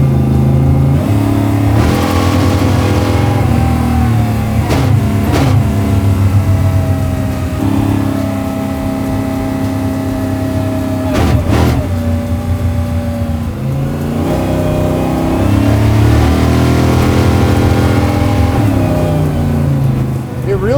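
A 900HP supercharged Jeep Willys Ultra 4 truck engine, loud and close, rising and falling through repeated revs with sharp blips and a supercharger whine, while people talk over it.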